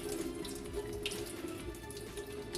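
Tap water runs steadily into a sink while toor dal is rinsed, a soft continuous splashing stream at close range with faint drips, no voices.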